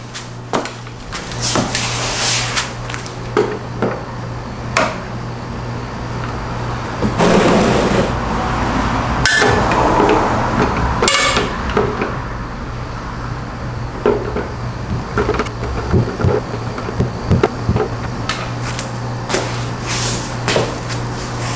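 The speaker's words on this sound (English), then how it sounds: "So I broke the oil filter loose, and I'm taking it out slowly." Clicks, scrapes and knocks as an oil filter is broken loose and slowly unscrewed from a 2018 Honda CBR600RR during an oil change, close and fairly loud, with a steady low hum underneath.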